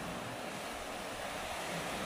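Steady wash of ocean surf, a continuous broadband rush with no distinct voices, fairly loud and unbroken for the whole stretch.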